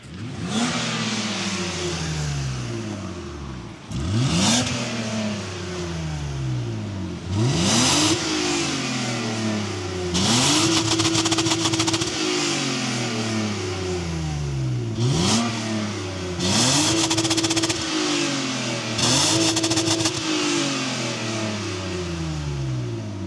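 A BMW 525i E34 with a manual gearbox revs repeatedly, about six sharp throttle blips that rise and fall back to idle, close and loud with no talking.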